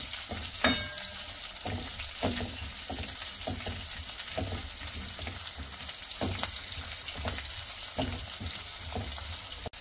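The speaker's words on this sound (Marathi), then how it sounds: "मिरचीची छानशी इथे आता फ्राय होऊ देऊ" Green chillies fry in hot oil for a varan chakolya tempering, giving a soft, steady crackle and sizzle with occasional sharp pops and light stirring taps, close and without talk.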